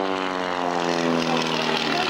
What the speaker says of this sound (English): Now a new Yak 50, must be pushing about 4G minus 4G round the back side of that vertical 8.